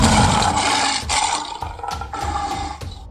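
A boy roars loudly like a lion in a cartoon story, several long, strained vocal roars in succession, loud and close, imitating the big cat.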